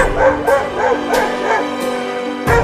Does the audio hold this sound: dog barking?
yes